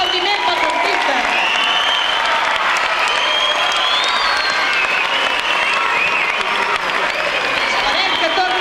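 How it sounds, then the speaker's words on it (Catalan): Audience applause for sixth-grade performers at a school Christmas cantata, a dense, steady wash of many hands clapping throughout, loud and sustained, with crowd voices mixed in. "Un fort aplaudiment pels artistes."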